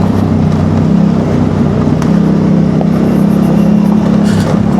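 A Yamaha Tenere motorcycle engine runs loud and close with a steady low throbbing drone and slight rises in revs while riding the TET trail in Yorkshire.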